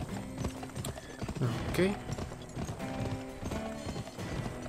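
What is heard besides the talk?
horse hooves clip-clopping, video game GUN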